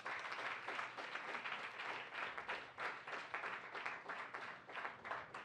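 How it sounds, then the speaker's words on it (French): An audience at a science charity event applauds, with steady rhythmic clapping from a moderate-sized crowd that stays faint and distant throughout several seconds. "Mes applaudissements, je vous en prie."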